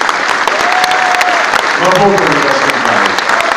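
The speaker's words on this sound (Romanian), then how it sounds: "Aplauze și pentru ei." Applause from an audience in a hall during a speech event in Chisinau, a broad steady clatter of clapping filling the room with someone speaking over it.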